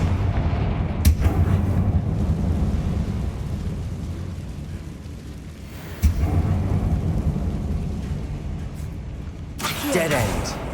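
A Confringo blast spell in Hogwarts Legacy booms with a sharp crack, followed by a long rolling rumble. A second hit lands several seconds later, then a burst of fuller noise near the end over a dense background.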